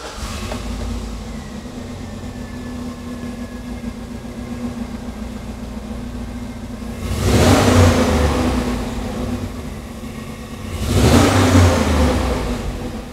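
The American 6.2-litre V8 in a Hummer idles at a steady low rumble and is then revved twice, each rev swelling into a loud roar before it settles back to idle, with no talking.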